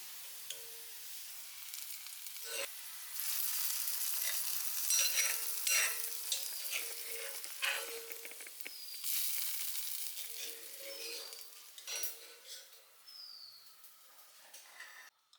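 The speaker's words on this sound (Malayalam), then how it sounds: "ഇനിയിപ്പോൾ നമുക്കിതാ വെളിച്ചെണ്ണയിൽ ചെറിയ ഉള്ളി അത് വഴറ്റിയിടണം" Small shallots sautéing in coconut oil with curry leaves for a Kerala-style mackerel curry, a steady close sizzle with stirring clatter, no voices.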